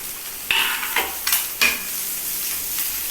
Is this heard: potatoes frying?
yes